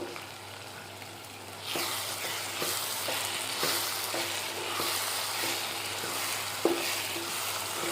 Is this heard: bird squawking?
no